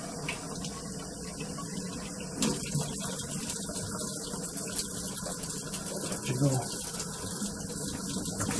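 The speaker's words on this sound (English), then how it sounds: "What I might do now is just squirt a bit of the glass cleaner in and see if that makes any difference" Glass cleaner swirled around inside an old, dirty treasure bottle dug from a bottle dump during washing, giving a steady wet sloshing and rushing under constant background noise.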